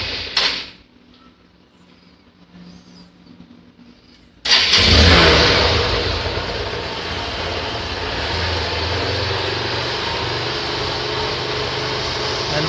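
A motorcycle fitted with a home-installed LED number-plate light starts at night with a sudden loud burst, then settles into a steady, close idle that continues to the end after a quiet stretch of faint clicks.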